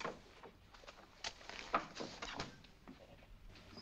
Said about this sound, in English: Oh, that door sticks.